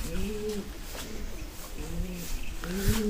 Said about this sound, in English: You guys can hear the sound of these pigeons and all.